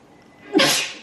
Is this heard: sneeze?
yes